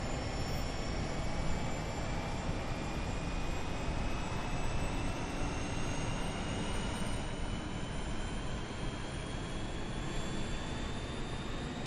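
A simulated A32NX airliner jet engine spooling up in a flight simulator game, a steady broadband roar with a rising whine that climbs slowly in pitch, continuous and even in level.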